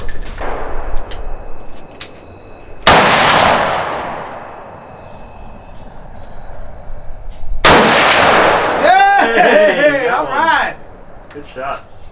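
Two loud, sharp M-1 Garand rifle shots crack out several seconds apart at an outdoor range, each followed by a long echoing decay, with people talking after the second.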